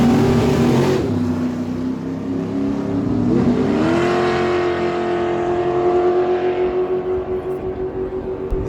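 Super Comp dragsters race down a drag strip, engines screaming in a loud sustained whine that shifts pitch as they accelerate, then holds a high steady tone with rapid pulsing.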